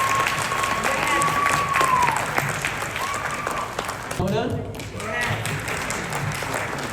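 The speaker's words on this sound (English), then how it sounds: "Your devotion to our community deserves a round of applause." Audience applause at a Queens Lunar New Year celebration and awards event, sustained clapping from a full room mixed with cheering, under a brief tone and a few spoken words.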